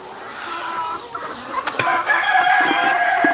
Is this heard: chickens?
yes